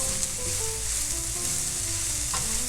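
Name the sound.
coleslaw sizzling and cooking in a pan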